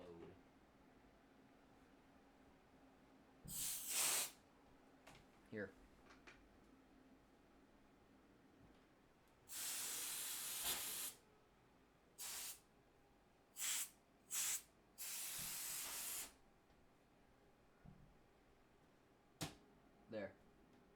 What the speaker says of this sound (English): I was spraying a little bit of compressed air in, also because my PC is super dusty